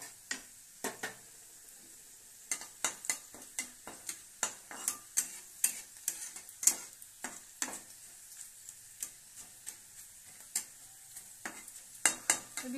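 Ingredients for lemon rice roasting in a pan, heard as a faint low sizzle punctuated by a regular series of sharp spatula taps and scrapes against the metal, with no talking.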